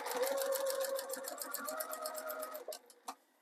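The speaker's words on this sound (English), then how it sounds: "And we're just going to sew all around the same way as when we installed the piping." A sewing machine stitches around a Christmas stocking with piping trim, its needle ticking in a fast, even rhythm with a hum underneath. The stitching slows and stops with a few separate clicks at the end.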